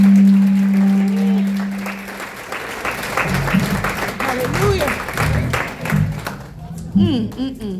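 A church congregation clapping along during a sermon, dense rhythmic hand claps under loud preaching and music, with voices and crowd noise mixed in throughout.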